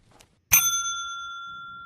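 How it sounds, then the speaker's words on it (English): A single bright bell is struck once in a video game built in Unreal Engine 5.6, ringing clear and close before a long, sustained metallic tone slowly fades. "When you ring the bell,"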